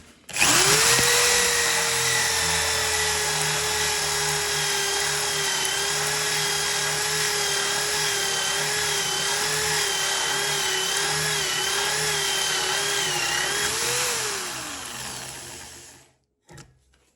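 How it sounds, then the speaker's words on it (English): A power drill turns a hole saw through timber in one steady, sustained whine that bends slightly as the tool is rocked, then winds down near the end. "when you're using a hole saw in timber, you do this while you're using it. You just slightly oscillate your drill to allow more of a cutting motion"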